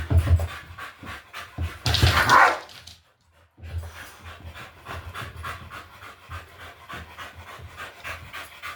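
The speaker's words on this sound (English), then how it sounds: "I guess that bark meant that I did it proper" A dog pants rapidly and close during rough play, breaking into one loud bark in the middle, then a short pause before the quick panting resumes.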